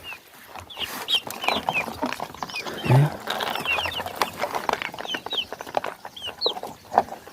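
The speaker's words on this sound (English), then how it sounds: "birds love grains. They love them so much." Chickens eating grain in a village yard cluck and chatter close by, with short overlapping calls and pecking noises, and a person briefly speaks.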